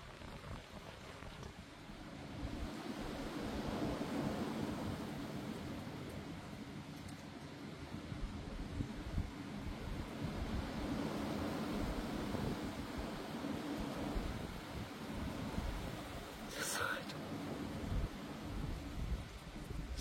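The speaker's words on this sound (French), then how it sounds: "Oh là là, c'est épouvantable ce vent." Storm Floriane wind roaring around a house in January, a broad, continuous gusting rush with buffeting on the microphone, fairly faint and steady throughout with no voices.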